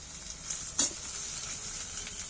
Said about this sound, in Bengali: এবার আমি ক্যাপসিকাম লঙ্কাগুলো ছোট ছোট করে কেটে রেখেছি দিয়ে দিচ্ছি